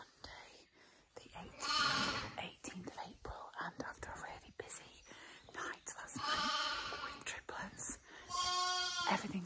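Lambs bleat in short, wavering cries that come and go against a close, quiet background where a person talks softly, almost whispering, between the calls.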